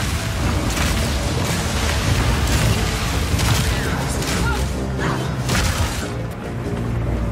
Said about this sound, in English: Armor-piercing bolts.